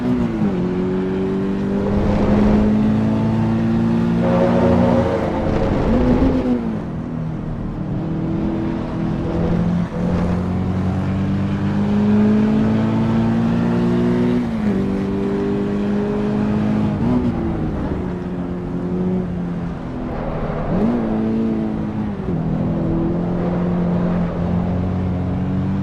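Race car engine in the Assetto Corsa Evo racing game, a loud steady drone with rising and falling pitch as it revs through gears, continuous and close.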